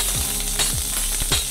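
Onions fry in hot oil for a curry, giving a steady close sizzle with a few sharp clicks and scrapes mixed in, no talking.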